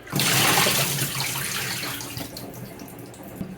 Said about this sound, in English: Just giving it a quick rinse.